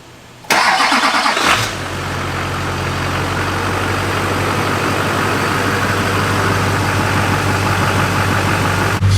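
A Duramax diesel pickup truck cranks over with a loud burst and catches, then settles into a steady, rumbling idle that continues close and strong to the end.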